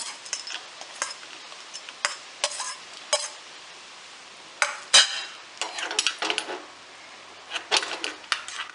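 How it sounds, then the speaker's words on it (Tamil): Almonds fry in ghee while a spoon stirs them around the pan, giving a soft sizzle broken by irregular scraping and clinking strokes. "இப்போ நம்ம நெய்யில் முந்திரி பருப்பு, பாதாம், கிஸ்மிஸ் எல்லாம் வறுத்து எடுத்துக்கலாம்."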